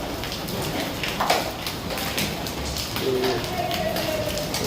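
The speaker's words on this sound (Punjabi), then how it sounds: "ਦੇਖੋ ਜੀ ਗੜੇ ਪੈਣ ਲੱਗ ਰਹੇ ਨੇ" Rain and hail pour down steadily, pattering hard on surfaces with scattered sharper hailstone impacts, a dense continuous downpour close by, in a village in Sangrur district, Punjab.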